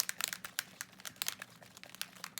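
Rapid rattling shake of a Distress Oxide spray bottle with a mixing ball inside, a brisk series of crinkly clicking bursts close to the microphone, with no talking.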